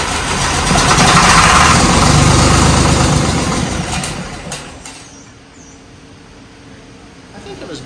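A John Deere 4430 tractor's diesel engine runs loud and rough at first, then settles to a quieter, steady idle, with a brief knock-like burst near the end and no talk over it.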